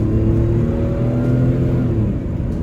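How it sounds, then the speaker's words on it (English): A 1995 Buick Park Avenue Ultra accelerates from inside, its engine rising in a smooth, steady roar that builds over a couple of seconds, close and loud. "Let's give her some gas here."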